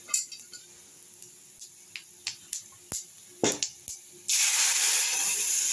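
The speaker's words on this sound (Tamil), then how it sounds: "பருப்பை தூக்கி ஊற்றுறோம்" Cooked lentils go into a pan of golden fried onions: a series of sharp sizzling crackles and drips, then a sudden loud, sustained hiss as the dal hits the hot oil.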